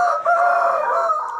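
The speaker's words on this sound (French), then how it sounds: "Ah, le coq est content." A Sussex-breed farm rooster crows nearby, one loud, sustained tonal call lasting over a second with no talking.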